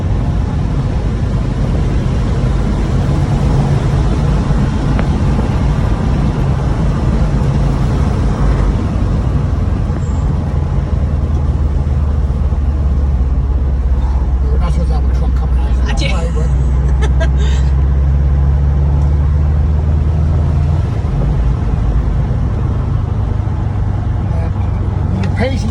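Cars on a race track holding a steady pace lap at about 50 to 60 mph, a continuous low engine drone rolling past with babble and talk from a crowd throughout.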